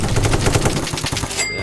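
Rapid automatic gunfire in the Roblox game Apocalypse Rising 2, a dense run of loud, evenly spaced shots filling the whole moment with no pause.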